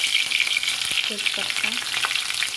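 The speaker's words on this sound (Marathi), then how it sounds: "कढईमध्ये तेल टाकून घेतले, त्याच्यामध्ये जिरा टाकून घ्यायचा आपल्याला" Cumin, chili and bay leaf fry in hot oil in a kadhai with a steady, bright sizzle, and a few short stirring or clinking sounds come through near the middle.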